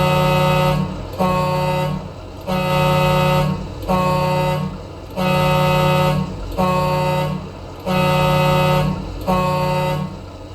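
Truck air horn in American Truck Simulator, a meteor-style horn blaring in seven long, loud blasts of a steady chord with short gaps between them, heard alone.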